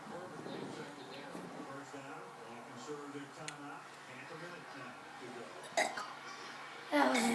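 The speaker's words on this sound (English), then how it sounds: "this is how I burp" A seven-year-old girl burps on purpose, a few short croaky eructations close to the microphone, with a louder burst near the end and murmuring in the background.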